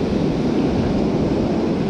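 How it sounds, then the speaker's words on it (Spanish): Steady, loud roar of ocean waves breaking near the shore at a fishing spot, a dense unbroken wash of surf with some wind on the microphone and no voices. "Es increíble cómo se ve el agua transparente allá atrás cuando rompe la ola."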